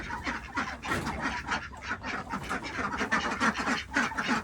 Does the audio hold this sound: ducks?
yes